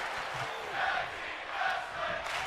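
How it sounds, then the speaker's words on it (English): A wrestling crowd at a tag team match chants in rhythmic, swelling waves, a dense mass of voices rising and falling at a steady beat, heard at a moderate distance. "As the crowd calls for tag team wrestling"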